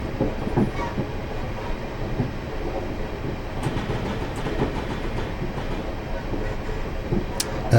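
A Class 450 electric multiple unit running on the Portsmouth Direct Line in Train Simulator 2020, a steady rumbling roll with faint rhythmic rail clatter and occasional higher clicks, continuous and fairly close.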